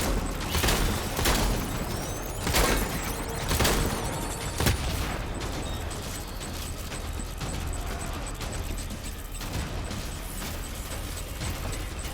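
Explosions and gunfire in a World War II battlefield boss fight in Death Stranding, with a frag grenade going off among repeated booms and bursts of shots that thin out into a rumbling, quieter battle.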